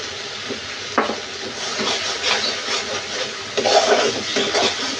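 Mustard-poppy paste and green chilies sizzling with spices in a pan, a steady frying hiss with occasional clinks and scrapes of stirring, close and moderately loud with no talk.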